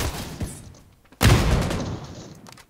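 A grenade explosion in PUBG: New State, a sudden loud blast midway that rumbles on for about a second, preceded by a smaller thump, with faint game ambience around it.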